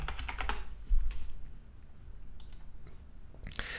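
Close, quick clicks and key taps on a computer keyboard and mouse while entering a key on GitHub, a short cluster at the start, then scattered lighter taps, with no speech.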